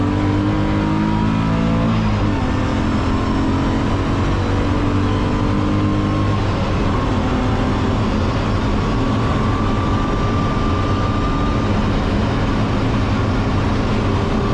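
A BMW race car engine revs hard, its raspy intake note prominent at low rpm in the first gears, with rising and falling tones as it pulls through gears on track; loud, close and continuous, with no voices.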